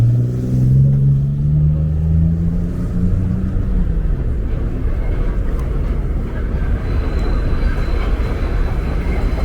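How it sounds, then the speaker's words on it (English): A train rumbles past close by on a Brooklyn street in Bensonhurst, with a low, steady roar that falls in pitch as it goes, leaving continuous rushing noise behind. "There's our first train."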